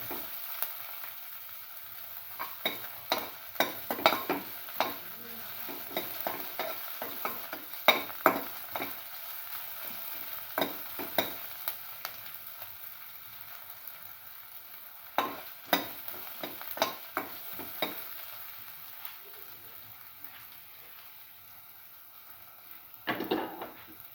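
Shallots sautéing with salt in a pan, a soft constant sizzle broken by frequent sharp scraping and stirring clatters of a utensil against the pan, close and without talk.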